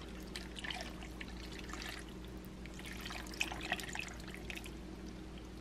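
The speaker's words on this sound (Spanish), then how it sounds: "Dos tazas de caldo de res." Beef broth pours into a slow cooker for brisket, a faint trickling and splashing of liquid over a low steady hum, with no talk.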